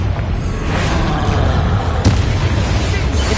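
A Confringo spell explosion in the Hogwarts Legacy video game, a loud continuous blast of booming, crackling game noise with a sharp burst near the middle and a voice briefly underneath.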